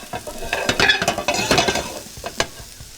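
Corn for Mexican street corn sizzles and is stirred in a hot pan, with close scraping and clinking strokes over a soft crackle, irregular and fairly loud.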